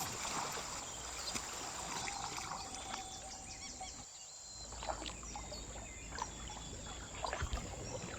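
Water sloshes and trickles steadily around a small boat rowed through a bayou in Assassin's Creed Liberation, with soft paddle splashes and faint bird calls in the background.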